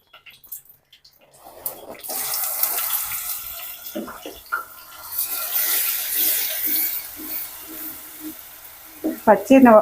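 Onion masala paste hitting hot oil, a rising hiss and sputter building into a steady sizzle with stirring scrapes, close by, ending in a few louder clatters.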